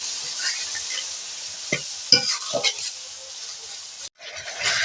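Spices with turmeric fry in a pan on a low flame after a little water is added, a soft steady hiss with a few scraping stirs and a brief burst of sizzling, fairly close.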